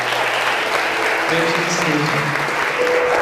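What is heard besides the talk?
applause at a prayer meeting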